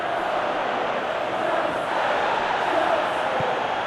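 Football stadium crowd at a Premier League match between Chelsea and Manchester United, a steady loud roar of cheering and noise filling the whole stretch without a break.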